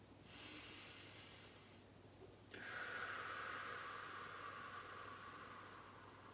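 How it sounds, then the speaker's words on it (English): Loud, deep yoga breathing fills the space in long, steady waves, a slow drawn-in breath swelling into a stronger, airy exhale that holds for several seconds, close and alone with no talk. "Hearing that breath, my friends. Making that breath louder."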